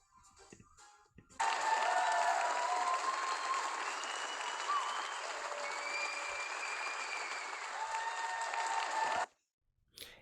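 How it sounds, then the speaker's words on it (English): Sustained audience applause for youth award recipients at an achievement and volunteer leaders appreciation night, a steady dense wash of clapping lasting about eight seconds before stopping abruptly, preceded by a brief quieter stretch. "Please give them a round of applause."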